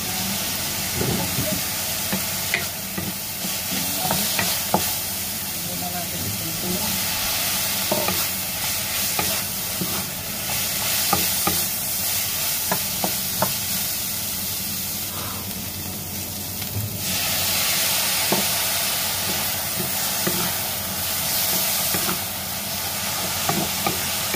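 Carrots and mixed vegetables cooking in a pan with chicken liver and mushrooms, a steady close sizzle and hiss with occasional stirring scrapes, continuing with no talk.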